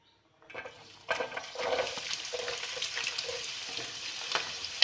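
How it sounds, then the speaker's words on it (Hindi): Mixed vegetables hit hot oil, about three to four tablespoons, in a pan for corn macaroni, bursting into a loud, steady sizzle after a quiet start, with occasional stirring scrapes and clinks throughout. "पैन के अंदर आप शामिल करेंगे थोड़ा सा ऑयल, तकरीबन 3 से 4 टेबल स्पून, और इसके अंदर शामिल कर देंगे हमारी तमाम वेजिटेबल्स"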